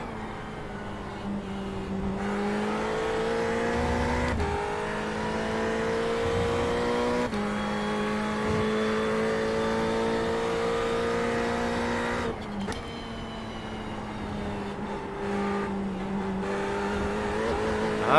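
BMW race car engines in a racing video game's BMW Cup series, a steady loud drone with pitch swelling and shifting through gear changes and several brief dips, running continuously throughout with no talk.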